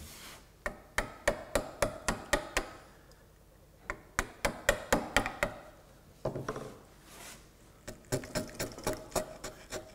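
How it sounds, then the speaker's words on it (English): Sharp wooden knocks struck in quick bursts of five or six, separated by short pauses, close and crisp, a hammer driving a chisel into wood to cut a housing dado joint. "I might use a hammer."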